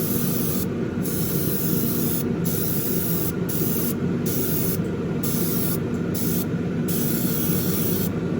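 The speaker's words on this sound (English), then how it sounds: "And now I'm just giving it a light mist coat. Not going super wet on this coat yet." Spray painting a light mist coat onto a Ferrari SF90 Spider scale model, a steady close hiss that runs without break, broken only by faint intermittent higher clicks.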